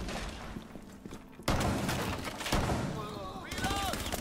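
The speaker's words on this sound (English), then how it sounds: "Detonating the breach charge." A breach charge detonating in Rainbow Six Siege lands as a sudden sharp blast partway through, followed by rattling gunfire and further thumps, with voices talking over the din.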